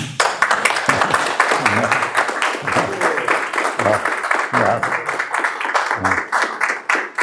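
An audience applauds at a lecture in Campinas, dense rapid clapping that is loud and close and carries on steadily throughout.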